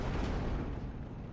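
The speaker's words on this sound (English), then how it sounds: "Let's bring in that mortar." A mortar fires in the World War II strategy game Steel Division: Normandy 44, a single broad, muffled boom that rolls out and fades over about a second.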